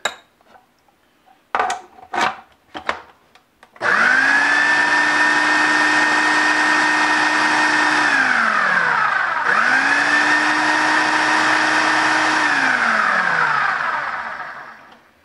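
A blender purees a bourbon glaze mixture: a few short clatters, then a loud motor whine that runs at full speed, drops in pitch, surges again and winds down to a stop.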